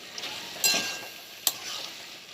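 Vegetables and capsicum frying in a pan for butter chicken, a soft background sizzle broken by two sharp metallic clinks of a utensil against the pan.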